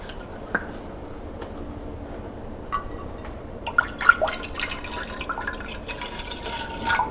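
Pickle brine trickles and drips into a jar, with soft splashes that grow busier toward the end, close by and fairly quiet.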